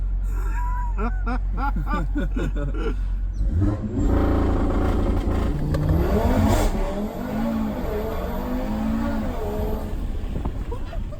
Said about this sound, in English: Raz is about to take us for a spin in his brand new RS3.